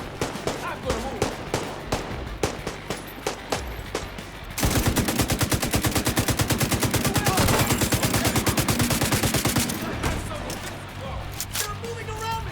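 Gunfire in Tom Clancy's The Division 2, with spaced single shots giving way to a long, loud rapid automatic burst and then scattered shots, while in-game voices talk over it.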